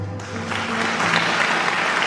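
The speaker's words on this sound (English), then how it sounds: "the room erupted into applause again" Applause swells through a room honoring a newly named dame at a ceremony, building from a low tonal hum into steady sustained clapping that fills the space for the rest of the moment.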